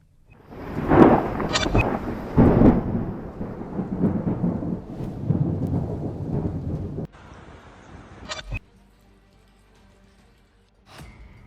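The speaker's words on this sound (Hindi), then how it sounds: "प्रदेश में फिर से बारिश का दौर जो है वो शुरू हो चुका है।" Heavy monsoon rain with rolling thunder in Rajasthan, loud broadband downpour with several sharp cracks of thunder, easing to a quieter patter in the later seconds.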